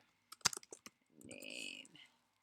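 A quick burst of keyboard clicks, several sharp taps close together, followed by a short voiced sound.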